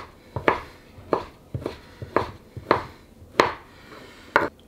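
A knife dices leftover smoked brisket on a cutting board, giving seven distinct chopping thuds at a steady, slightly uneven rhythm. Each one is close and fairly loud, with no talking.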